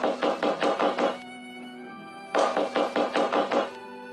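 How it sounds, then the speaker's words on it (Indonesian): Knocking on a door as a horror story sound effect: two loud, close bursts of about six rapid knocks each, separated by a ringing pause. "kembali mendengar suara ketukan pintu"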